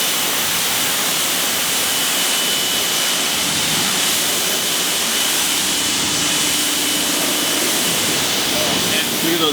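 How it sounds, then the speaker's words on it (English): Rinse water sprays onto a car and runs off its freshly ceramic-foamed surface, a loud, steady broadband hiss that continues without a break. "Look at that water running clear off."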